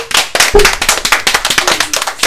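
A small radio studio audience applauds after a debate, a close, loud burst of sharp, uneven hand claps from a handful of people.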